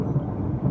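A deep, rumbling roll of thunder from a lightning storm overhead fills a brief, low, loud moment.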